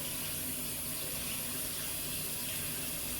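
Hot water runs steadily from a tap onto a towel being soaked, a constant, even rushing hiss that fills the whole moment with no talk.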